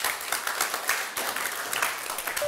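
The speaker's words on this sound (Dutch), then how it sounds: "graag een hartelijk applaus voor Tim" A live audience claps warmly for a speaker being introduced at an evening talk on inkjet printing and microbubbles; dense, steady applause fills the hall without a break for a few seconds.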